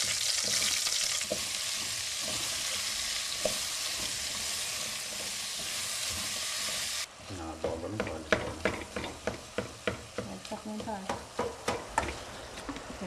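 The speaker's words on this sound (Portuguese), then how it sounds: "esquente duas colheres de óleo e frite o alho e refogue a abóbora" Garlic frying and pumpkin sautéing in oil in a pan, a loud hiss at first that drops to a quieter sizzle broken by repeated stirring scrapes.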